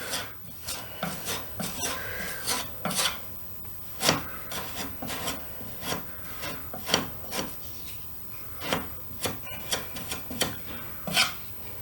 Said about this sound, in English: I'm going to continue getting this putty in, and then we'll come back and get it sanded